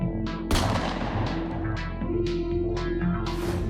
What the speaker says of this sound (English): Flintlock. A general term for any firearm that uses a flint striking ignition mechanism.